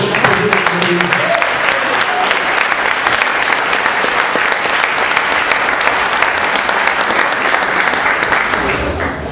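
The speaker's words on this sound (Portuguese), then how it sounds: "Dá Ele uma aplauso." A church congregation applauds during a sermon: dense, steady clapping from many hands that stays loud and even for about nine seconds, with faint crowd noise mixed in.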